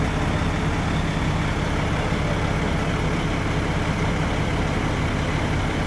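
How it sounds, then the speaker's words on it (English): A crane works during the removal of a Christopher Columbus statue in Tower Grove Park, giving a loud, steady, close diesel engine drone that holds unbroken throughout. "It's loud because of this crane that they're using"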